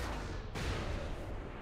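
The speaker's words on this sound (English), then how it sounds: "Oh, someone's shooting at me." Gunfire in the Saints Row 4 video game, a dense roaring burst of heavy shots and blasts filling the short moment, loud and unbroken with no talking over it.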